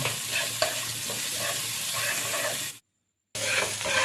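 Spices with turmeric and salt are stirred in hot frying oil for a Bengali mustard hilsa dish, giving a close, steady sizzle with scraping stirs that cuts out briefly before resuming.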